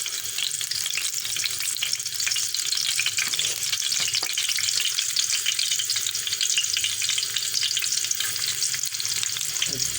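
Steady loud sizzling of garlic frying in hot ghee, a continuous crackling hiss close by with no talking.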